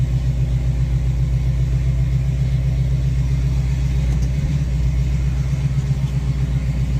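A first-generation Pontiac Firebird engine freshly converted to electronic fuel injection idles slightly high, a steady, loud, low rumble that holds even and unbroken throughout, with no talking.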